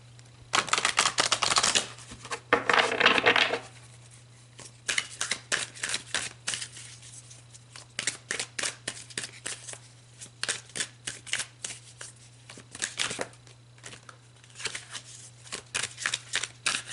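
Tarot cards are shuffled close up in a steady run of crisp riffling and flicking, with one louder riffle near the start, over a constant low hum.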